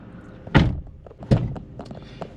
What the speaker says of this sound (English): It shows when I open the driver's door